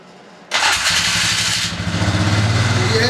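A freshly rebuilt Polaris Expedition quad engine catches abruptly after a moment of quiet, bursting to life with a loud, close roar that settles within a second or so into a steady, throbbing idle.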